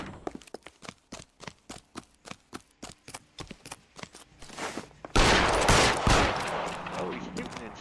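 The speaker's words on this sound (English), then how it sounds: "Oh, he's shooting and shit." Repeated video-game gunshots in L.A. Noire, a steady string of sharp evenly spaced shots that gives way to a loud, dense burst of noise and fire near the end.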